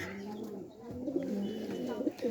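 A pigeon coos in low, soft, rolling notes nearby, with a voice talking over the calls.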